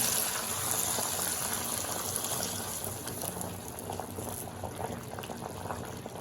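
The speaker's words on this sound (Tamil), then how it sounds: "இதை எடுத்து அந்த பயிர்த்தானத்தில் இதுக்கப்புறம் ஊற்றுறேன் பாருங்கள்." A sautéed mixture for mochai kuzhambu, a field bean curry, goes into a clay cooking pot, producing a steady close sizzle and bubbling hiss that holds at an even loudness throughout, with no talking.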